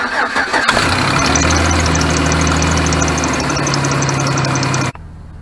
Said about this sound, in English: I go ahead and put the key in the ignition, fire this thing up.